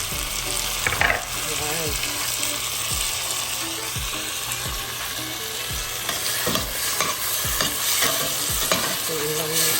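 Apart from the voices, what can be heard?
tomatoes sautéing with onions in a pan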